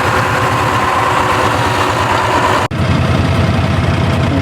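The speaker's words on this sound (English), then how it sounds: "Caught up with them with the tractor again." A farm tractor engine idles nearby while chicken litter is being spread, a steady loud knocking rumble with a brief dropout partway through.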